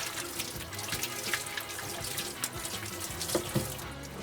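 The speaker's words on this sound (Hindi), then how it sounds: "सिर्फ हाथ, और अच्छी तरीके से हाथों को आपने धोना है" Hands washed under a running kitchen tap, a continuous splashing stream with uneven gurgles and drips as the hands move through the water.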